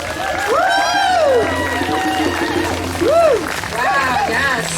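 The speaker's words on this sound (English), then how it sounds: "Give yourselves a round of applause." Outdoor crowd at an Indigenous rights protest rally cheering and whooping, a steady wash of voices with rising shouts throughout and one voice calling out near the front.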